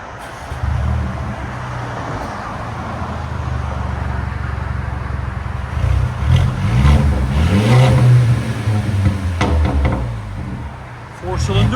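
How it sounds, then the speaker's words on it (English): Stage 1 tuned 2018 Mercedes CLA 250 with a 2.0L four-cylinder turbo and muffler delete revs up repeatedly, a loud, rough exhaust drone rising and falling close by, with people talking over it. "2018 Mercedes CLA 250 muffler deletes."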